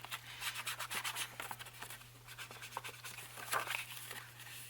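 Ink is dabbed and rubbed onto the flap of a folded paper envelope, making soft, quick scratchy strokes in repeated bursts, close and quiet.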